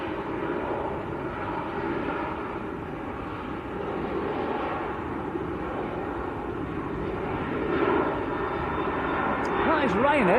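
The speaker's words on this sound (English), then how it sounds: "That is Ryanair to Dublin." A Ryanair airliner bound for Dublin rumbles at Manchester Airport, a broad steady jet roar that swells slightly toward the end, with people talking over it.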